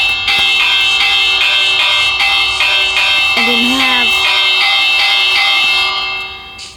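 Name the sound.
bell rung by a redstone pressure plate in Minecraft video game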